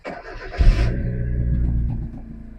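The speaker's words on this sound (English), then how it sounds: "I got the jump box on the battery because this thing is absolutely dead. See if we can't get it to start." A cheap Hyundai with a dead battery, boosted by a jump box, cranks briefly and then catches, settling into a steady, close idle hum.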